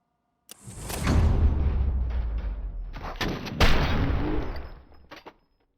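Gunfire in RoboCop: Rogue City, a loud dense run of shots and impacts lasting several seconds with a brief break, then a second burst that fades out.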